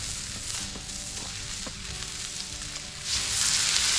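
Bacon sizzles and crackles in a pan at a campsite, a steady dense hiss that runs throughout and swells louder near the end, with no talk over it.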